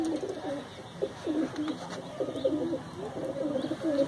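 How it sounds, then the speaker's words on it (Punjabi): Pigeons at a pigeon club in Delhi coo in soft, repeated low phrases, fairly near, over a faint background hum and the occasional chirp, with no speech. "ਚਿੱਟਾ ਕਬੂਤਰ ਹੈ ਚਿੱਟਾ ਕਬੂਤਰ ਹੈ"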